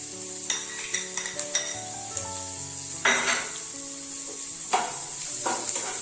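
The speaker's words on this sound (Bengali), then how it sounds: "গাজরটা বেশ একটু সময় ধরে ধরে ভাজতে হবে" Carrots fry in a pan, a steady sizzle running throughout with bursts of stirring and clinks of a utensil against the pan; no one speaks.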